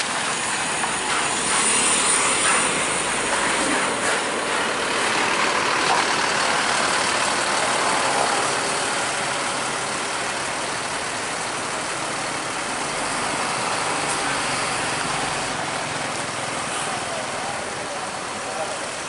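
A PO Palala Duta Budaya bus pulls away at a roadside workshop in Payakumbuh, West Sumatra, its engine a steady, broad rumble. The noise holds fairly constant throughout, with voices faintly mixed in.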